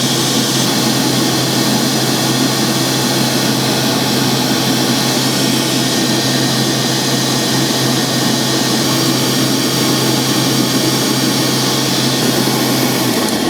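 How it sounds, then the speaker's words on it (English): A Globe SP05 commercial stand mixer's motor runs steadily and loudly, a smooth continuous hum and whir with no pauses and no talking. "similar motor sound that other commercial mixers have used"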